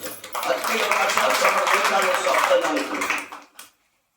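Members of a church congregation clap together during a Hindi sermon, a sustained, fairly loud patter of many hands lasting about three seconds before cutting off into silence.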